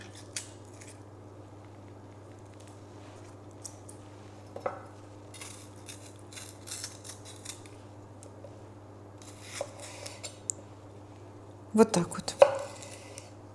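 A knife slicing a fragrant bell pepper into strips for homemade pizza, heard as scattered soft cuts and taps that cluster more densely toward the end, with a brief spoken phrase partway through.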